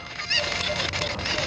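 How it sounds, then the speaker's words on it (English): Cucco chicken from The Legend of Zelda: Ocarina of Time giving a short, loud, honking squawk that rises suddenly and holds briefly in a single close burst. "Stop clucking, you fat freaking chicken."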